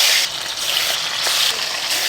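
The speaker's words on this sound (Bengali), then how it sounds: "সেই তেলে আমি মাছগুলোকে ভেজে নিচ্ছি" Hilsa fish frying lightly in shallow oil left over from frying aubergine, giving a loud, continuous close sizzle with a few faint scrapes.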